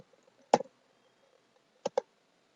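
Computer keyboard keys are tapped while a spreadsheet formula is typed, with one short cluster of clicks and then two quick close clicks a moment later, crisp and near against near silence.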